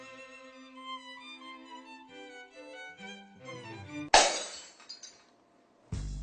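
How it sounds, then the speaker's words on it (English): Glassware breaking in a science classroom: soft tonal music plays, then a sudden loud shatter with scattering tinkles, followed by a second crash at the very end. "Glass breaks in a science classroom."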